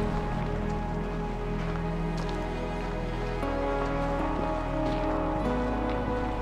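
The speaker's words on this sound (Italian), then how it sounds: "stiamo prendendo una bella pioggia" Rain falls steadily on a mountain hike, a dense, even patter that holds at the same level throughout with no talk over it.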